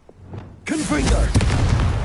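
The Confringo explosion spell from Hogwarts Legacy bursts with a loud, close boom that erupts suddenly after a quiet moment and rumbles on for over a second.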